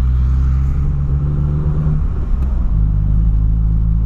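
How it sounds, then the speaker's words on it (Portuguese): A Ford Ka engine is revved from a garage, a loud, close, steady low rumble that dips briefly at mid-clip and then carries on at a constant drone. "Eu peguei da garagem agora e comecei a acelerar."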